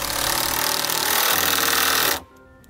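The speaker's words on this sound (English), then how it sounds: "I have it clamped to here right now just to hold it in place while I secure it with some self-tapping screws" Power driver spinning self-tapping screws into a battery box while mounting a HydraStar electric-over-hydraulic disc brake actuator module, a loud steady whir for about two seconds that then cuts off abruptly.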